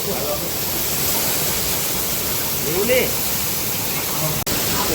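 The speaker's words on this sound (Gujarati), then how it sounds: "જો વરસાદ પડે પાણી જ એટલું આવે" A steady, dense roar of heavy rain and rushing water in Surat fills the clip, with a faint voice briefly audible underneath.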